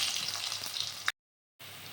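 Cut potatoes fry in hot oil in a wok with a bay leaf, whole garam masala and cumin seeds, giving a close, bright sizzle that breaks off briefly and then carries on.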